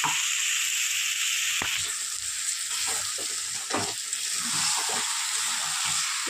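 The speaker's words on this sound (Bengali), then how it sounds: "চলুন এটাও খুব ভালো করে কষিয়ে নিয়ে আসছি।" Ground chilli, turmeric, cumin and coriander with a splash of water sautéing in hot oil for Kashmiri aloo dum, a steady close sizzle with stirring scrapes and a few sharper spatters throughout.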